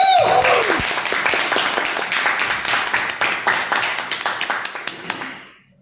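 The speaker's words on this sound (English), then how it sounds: "Let's have a round of applause." An audience at a professional speakers' event breaks into applause, dense clapping that starts loud and gradually thins and fades out over several seconds; a brief tone sounds at the very beginning.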